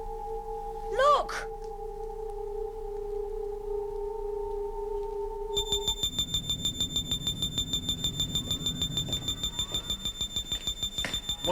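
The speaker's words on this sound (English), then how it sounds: "What's that noise? It's the intruder alarm." An intruder alarm in the sci-fi TV series The Tomorrow People starts partway through, a steady electronic tone with rapid pulsing beeps that carries on loudly to the end, following a brief whooshing sci-fi effect and a low hum.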